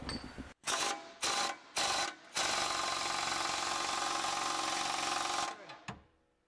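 A 3/4 impact tool tightens the forward bolt of a steering stabilizer bracket on a Chevy 2500HD/3500HD truck: three short loud rattling bursts, then one long sustained hammering run that winds down at the end, close and alone.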